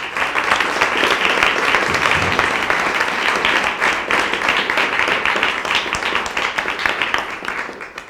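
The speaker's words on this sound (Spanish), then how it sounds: "Así que un aplauso para ella, por favor" An audience at a book presentation gives a sustained round of applause, dense and steady clapping from many hands that fills the room evenly for about eight seconds, slightly tapering at the end, with faint voices beneath.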